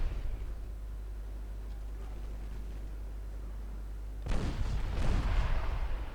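Warship guns fire in the naval video game Ultimate Admiral Dreadnoughts, a low steady rumble that breaks into a loud blast near the end, followed by a rolling, crackling boom.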